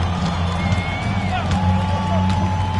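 Home crowd cheering in an NBA 2K25 basketball game, Warriors at Bulls, a steady broad roar of arena noise with a low hum and occasional whistle-like tones, continuous and fairly loud throughout.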